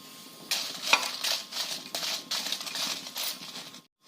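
Dried red chillies dropped into hot oil in a pan for Marathi-style idli gunpowder, sizzling and crackling steadily at close range with a few light clinks of a spoon against the vessel and no speech.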